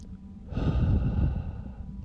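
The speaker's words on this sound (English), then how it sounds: "Let's take a deep breath." A single long, deep breath drawn in and slowly let out, close and fairly soft, with no talking.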